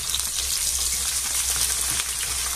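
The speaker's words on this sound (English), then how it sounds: "we'll just fry it up until it's all nice and soft" Garlic with red and green pepper frying in a pan, a loud, dense, continuous sizzle close up with no breaks or voices.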